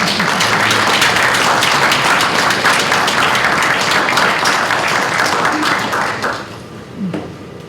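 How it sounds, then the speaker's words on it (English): Loud, sustained audience applause fills a lecture hall at a meteorology lecture event, dense clapping holding steady for several seconds before tapering off at the end. "Let's give them all a round of applause."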